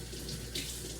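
Water runs steadily from a tap into a container, a close, continuous hiss and splash with no other sounds.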